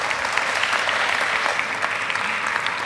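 Dense, steady audience applause at a church evening service in an auditorium, many hands clapping continuously at even loudness for the full three seconds with no voices standing out.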